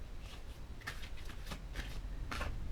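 Tarot cards shuffled and drawn during a reading, a series of soft papery riffles and slides over steady background hiss, close by with no talk.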